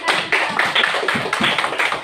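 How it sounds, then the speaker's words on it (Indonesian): Children in an Islamic religious education classroom clap together in quick rhythmic bursts, a lively, fairly loud patter of many hands close by. "anak-anak kita tepuk tangan dulu untuk menjawab"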